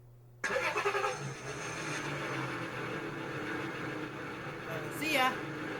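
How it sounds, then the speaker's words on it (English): A synthesized car engine effect from a Roland GO:KEYS keyboard starts abruptly and then holds as a steady, loud, droning rumble, with a brief rising whine near the end. "Car engine?"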